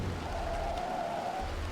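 Heavy downpour during a storm chase in the video game OutBRK, a steady dense hiss of rain that stays loud and even throughout, with a low rumble underneath and no talking.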